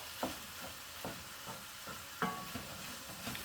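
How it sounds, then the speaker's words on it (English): Bolognese sauce on low heat in a pan: a steady, quiet bubbling with soft, regularly spaced pops and plops, heard close up with nobody speaking. "Then that will just simmer away for an hour"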